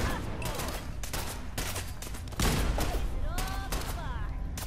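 Gunfire in Fallout 4 comes as dense repeated bursts, with rapid shots cracking continuously over a loud combat backdrop. Voices come and go in the mix.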